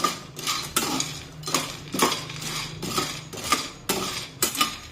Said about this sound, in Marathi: मंद आचेवर हे सांगे भाजून घ्यायचे उलटण्याने एकसारखे हे सांगे असे हलवून घ्यायचे